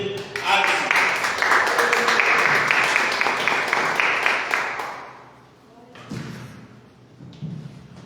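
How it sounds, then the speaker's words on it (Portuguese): A church congregation at an evening service claps loudly for about five seconds, then the applause fades and a few thumps and faint voices follow. "aplauda o Senhor"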